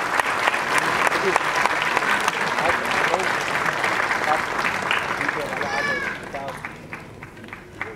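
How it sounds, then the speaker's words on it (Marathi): A stage event crowd applauding Varsha Phalke at a trailer launch gives sustained, dense clapping that fades toward the end, with a voice speaking over it. "टाळ्या जोरदार झाल्या पाहिजे वर्षा फाळके मॅमसाठी"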